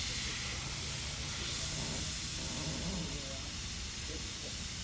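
Airbrush spraying paint onto a skull illustration, a steady close hiss running without a break, with faint rustling and low background noise beneath it.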